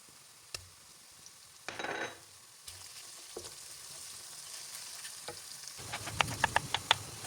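Garlic and ginger fry with onions in hot oil alongside cardamom and a cinnamon stick, a steady close sizzle with a few stirring scrapes and a louder bubbling crackle toward the end.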